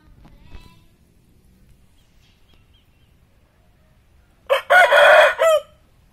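A Bangkok rooster with glossy, showy plumage lets out a single loud crow of about a second after a stretch of near silence, sharp and close, with no voices over it.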